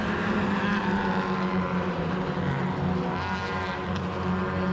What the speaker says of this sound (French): C'est la séance d'essai pour les Roadster de chez Mazda, les petites MX-5.